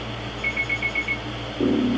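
Low-timer warning alarm in the Frogger SNES video game: a rapid series of short, high electronic beeps over background game music, followed by a lower tone.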